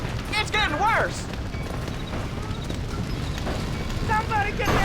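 Horses trapped in a burning barn in the Red Dead Redemption video game, with hooves clattering and horses whinnying near the start and again toward the end over steady fire and crowd noise, while voices shout throughout.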